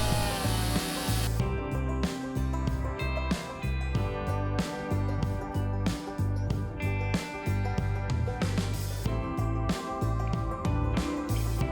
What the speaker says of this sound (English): A spacer on a chainsaw acts as a guide.